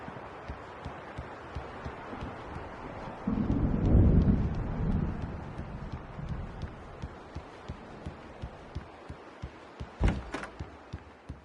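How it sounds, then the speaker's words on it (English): An approaching thunderstorm: a low thunder rumble swells and fades in the middle, then a sharp crack near the end, over steady rain with scattered ticking drops. "The storm is almost here."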